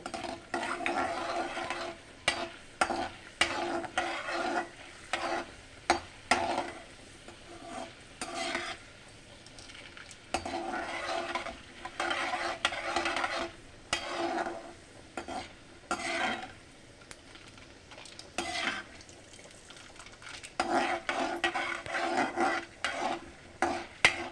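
Chana dal sizzles and is stirred in a hot pan, with repeated scraping stirs and clattering spoon strokes over a soft frying hiss, no talk.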